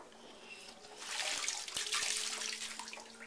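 Water pours over a child's head in a bathtub, a steady splashing gush that swells after a second and continues for a couple of seconds, fairly soft and close with no talking.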